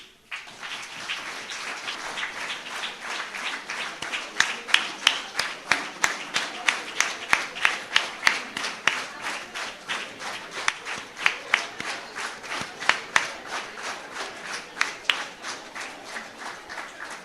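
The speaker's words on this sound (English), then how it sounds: "All others, please clap" Audience at a golden jubilee celebration clapping together in a steady, rhythmic beat, a fairly even pulse of hand claps from a gathered crowd that carries on throughout.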